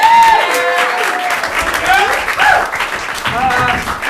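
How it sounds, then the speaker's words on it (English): A theater audience at a Hideout Theater show gives a loud, thunderous round of applause for the tech booth, with whoops and cheering voices rising over the steady clapping. "a huge, thunderous round of applause for the tech booth"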